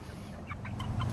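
Chickens on a chicken farm cluck in a few soft, short calls over a steady low background rumble.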